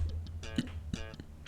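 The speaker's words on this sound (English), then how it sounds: "The other one is the slap bass, which sounds like this." A short, punchy bass riff with sharp slapped and popped notes, loud and close, a few quick hits over about a second and a half.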